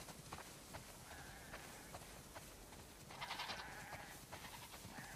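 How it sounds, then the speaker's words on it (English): Faint sheep bleats from The Last of Us Part II video game rise a few times over a low, noisy background, one longer bleat standing out near the end. "Wow, that's a lot of sheep."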